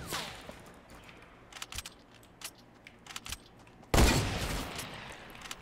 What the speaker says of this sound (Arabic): طلقات شباب